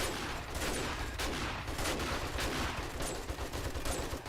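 Rapid, dense gunfire from players shooting in the survival game 7 Days to Die, a loud sustained fusillade of overlapping shots with little pause throughout.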